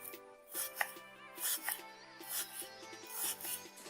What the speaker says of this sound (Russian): Я взял 2 крупных лука и буду нарезать их на четверть кольца.